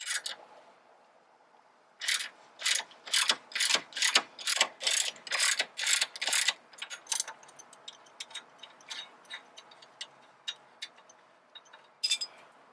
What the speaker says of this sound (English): we're gonna start removing some bolts